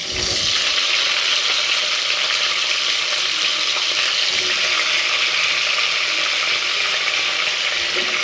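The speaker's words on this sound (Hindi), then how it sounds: "अब मैं उसे भी इस ऑयल में डालने लगी हूँ" Potato slices fry in hot oil with cumin for a spiced pickle-style potato dish, giving a loud, steady, close sizzle that continues unbroken throughout with no voices.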